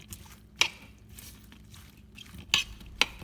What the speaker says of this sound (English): Mix the lady's finger with the oil for minimum 1 minute